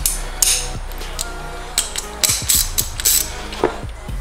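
A T25 Torx bit turning out the screw on a BMW M3 side marker, giving close metallic clicks and ticks in an uneven series over faint background hum.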